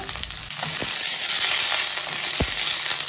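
Tomato, ginger-garlic paste and coconut fry in a steel pan for a chicken curry, giving a loud, close, continuous sizzle broken by a few sharp scraping stirs, with no voices.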